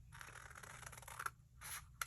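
Scissors trim paper for a no-sew journal, producing a close, dry, continuous cutting rasp that pauses, then resumes in short snips.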